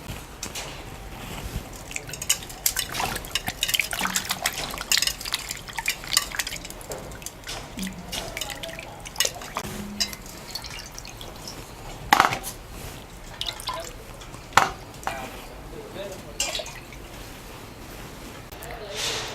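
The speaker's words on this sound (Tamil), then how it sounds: "தோல் சீவி வச்சுருக்க உருளைக்கிழங்க தண்ணியில் போட்டு நல்லா கழுவிக்கலாம்." Peeled potatoes are rinsed in a water-filled vessel in a home kitchen, with irregular splashes, drips and clinks of pots and utensils, while someone speaks over the washing.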